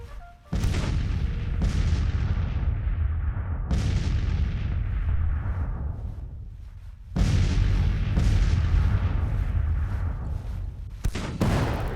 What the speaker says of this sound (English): Goes an artillery brigade.